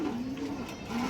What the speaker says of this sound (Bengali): বড় সাইজের একটা মাদি কবুতর